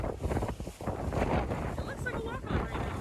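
Steady wind at Epcot buffeting the microphone, a constant low rumble and roar that runs the whole time, with a voice talking faintly under it.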